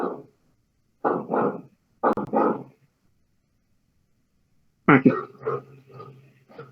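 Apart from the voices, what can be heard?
dogs barking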